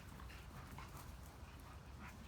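Dogo Argentino dogs at play give a few faint yelps and yips, partly buried in steady outdoor noise and rustling.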